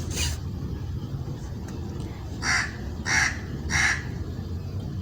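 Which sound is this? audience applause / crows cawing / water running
crows cawing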